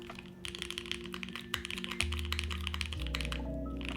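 Soft, muffled mechanical keyboard typing with marshmallow switches in a quick, uneven run of key presses, close by over a low steady hum.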